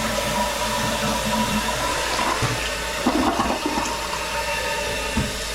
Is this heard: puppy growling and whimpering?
no